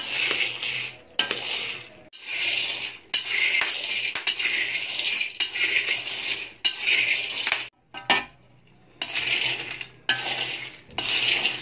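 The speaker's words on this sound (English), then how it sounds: "So always remember to stir constantly the beans until done," Cocoa beans roasting in a pan while being stirred constantly, a steady run of dry scraping, rattling clatter in repeated bursts with short pauses between strokes, close and fairly loud, no talking.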